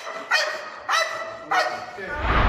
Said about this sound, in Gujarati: ડોગ તમામ શંકાસ્પદો પાસેથી પસાર થાય છે અને ત્યારબાદ જેણે ચોરી કરી હતી તે શખ્સ પાસે જઈ ભસવા લાગે છે